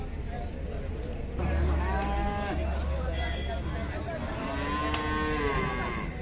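Several bull calves at a cattle market moo in drawn-out, overlapping calls over a steady background rumble, fairly close by.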